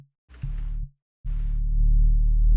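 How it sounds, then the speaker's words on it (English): Synthesized analog filter sweeping upward for a space explosion effect, two sustained buzzing tones, the second swelling louder and brighter toward the end, with no talk. "And so it's just a analog filter sweeping up,"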